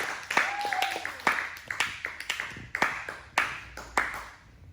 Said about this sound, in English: We're gonna keep clapping